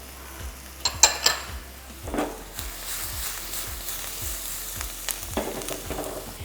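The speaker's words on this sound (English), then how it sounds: "I'm going to put my pine nuts in now because I want them to crisp a little bit and get a little brown." Pine nuts frying in a pan for a spinach breakfast galette give a soft steady sizzle, with scattered clinks and scrapes of stirring over it, close and fairly quiet.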